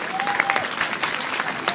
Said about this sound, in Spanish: Fuertes aplausos bonitos, señoras y señores.